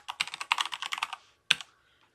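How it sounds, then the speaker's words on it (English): A password is typed on a computer keyboard, with a quick run of about a dozen close keystrokes followed by a single louder final key press. "Then you're going to type in your password."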